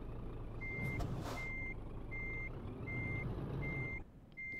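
Repeated reverse warning beeps from a truck hauling an oversize load in Euro Truck Simulator 2, a steady series of about six tones over engine drone, with a brief air hiss near the start.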